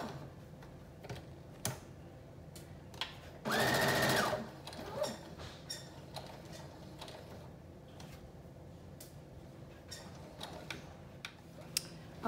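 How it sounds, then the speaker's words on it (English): A sewing machine stitches a 5/8 inch seam on a Simplicity 8642 flutter top, a loud steady whirring run of about a second amid quiet clicks and handling noises, with no voices. "We're going to stitch 5/8 inch."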